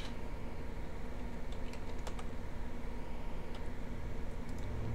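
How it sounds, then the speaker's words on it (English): Sparse, soft key taps from a computer keyboard, a handful of clicks in short bursts over a constant hiss. "if I start typing it"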